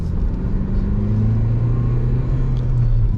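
A Mahindra XUV300 compact SUV's engine pulls under acceleration, a loud, steady low rumble with a rising tone as it builds speed, heard from inside the cabin with no talk.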